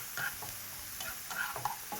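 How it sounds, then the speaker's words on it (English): Onions sautéing in an oiled pan, a soft steady sizzle with faint scraping and stirring clicks from a utensil, close and continuous with no talk. "So proceed to saute your onions"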